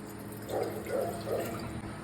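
Three-quarters of a glass of water pours into a vessel for tea in three short splashing gushes over a steady low background hum.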